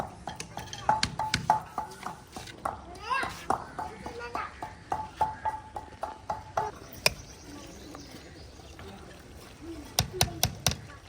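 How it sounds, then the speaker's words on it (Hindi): Metal pots and utensils clatter and clink as they are gathered up in a village mud-house kitchen, with repeated sharp knocks across the whole stretch and faint voices in the background. "अब ये फालतू जो बर्तन है ये सारे समेटते हैं"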